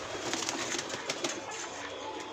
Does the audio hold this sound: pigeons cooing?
yes